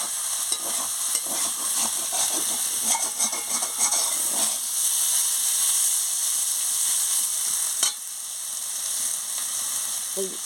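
Spices and oil sizzle in a pan while being stirred for a straw-flour (khorer chhatu) dish, a steady frying hiss with scraping stir strokes, busiest in the first few seconds and calmer afterward.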